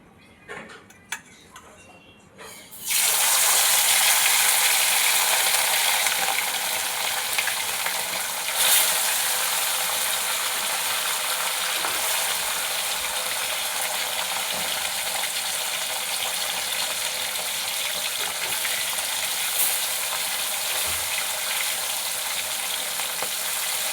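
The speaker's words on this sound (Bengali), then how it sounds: "তেল ভালো করে গরম হয়ে গেছে, কড়ায় মাছ দিয়ে দেবো।" Red bhola fish pieces coated in salt and turmeric drop into hot oil in a wok, and after a quiet start a loud, steady hiss of frying fills the rest of the scene without letup.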